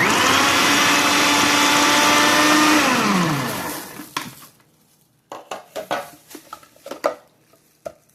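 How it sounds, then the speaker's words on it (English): A food processor runs loud and steady for about three seconds chopping rough-cut onion for garden salsa, then winds down, followed by a series of close clattering knocks and scrapes of the bowl and lid. "Put it in the food processor."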